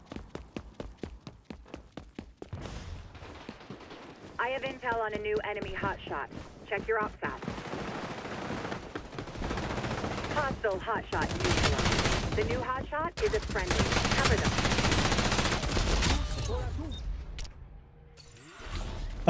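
Bursts of automatic gunfire and shots in the shooter game XDefiant, rapid crackling volleys running almost continuously at close range with brief pauses, over busy game noise.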